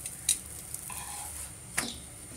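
Paratha frying in a pan, a faint steady sizzle with a few brief clicks and scrapes of a utensil against the pan, close and without talk.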